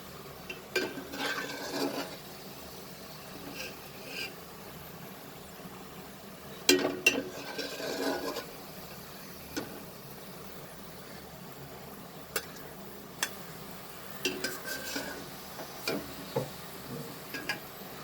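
Golden-fried onions are lifted out of a pan with a metal spoon while making moong dal khichdi. Sparse light scrapes and clinks sound close, with a faint sizzle underneath and no talking.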